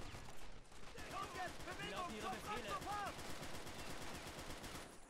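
A rapid, steady burst of automatic fire from the SCG gun in Men of War: Assault Squad 2, a Second World War strategy game, rattles on for several seconds at a distance, fairly faint, with voices heard partway through.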